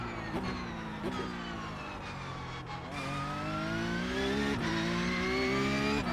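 Race car engine in a sim racing game, a continuous loud whine that rises and falls with gear changes and throttle, sharp upshifts every second or so, with no talk over it.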